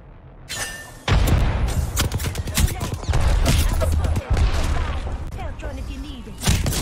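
Rapid weapon fire in an Apex Legends match: several sharp, loud volleys and booming bursts crowd together in quick succession, with short gaps between bursts and a heavy shot near the end.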